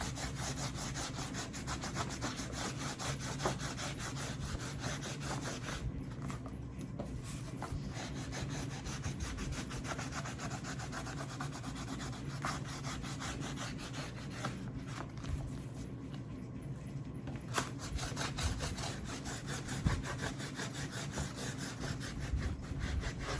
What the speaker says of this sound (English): you'll get more of an impact from the wet distressing. So try and go against any lines you have